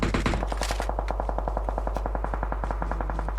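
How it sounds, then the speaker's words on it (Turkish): Rapid bursts of suppressed automatic gunfire from a PUBG Mobile match, a steady rattling stream of loud, closely spaced shots continuing without pause. "Susturucuyla sıkıyor."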